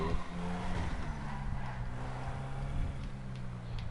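A Rat Loader pickup in a GTA video game drives at speed and brakes, its engine drone steady and fairly loud throughout with a faint tyre-like edge and no voices over it.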